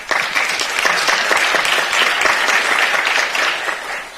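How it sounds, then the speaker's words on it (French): Sustained applause from the audience at the ISEA Paris 2023 opening ceremony, a full, even roar of many hands clapping close and loud for several seconds, with no voices on top. "Sous vos applaudissements."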